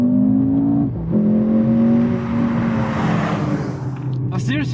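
Mercedes-AMG GLC 43 doing a launch-control start in Sport Plus, engine note rising steadily through the gears from inside the cabin, loud and continuous.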